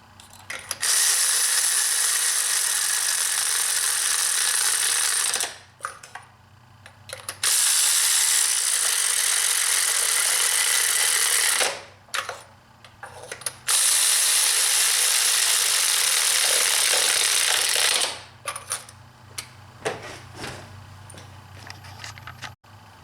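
A ratchet wrench snugs down spark plugs on a Mini Cooper R56, with loud, close, continuous rapid clicking in three long bursts and short quiet pauses between them.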